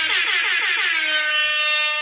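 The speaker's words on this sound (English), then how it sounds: "Gotta dust off the air horn." An air horn sound effect blasts loud and sustained for about two seconds, a brassy, blaring tone that holds steady from start to finish with nothing else heard.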